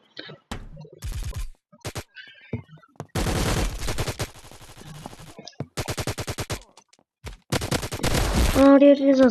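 Rapid bursts of gunfire in the video game Poly War come in repeated stretches of automatic fire separated by short gaps, close and loud, with brief single shots in between.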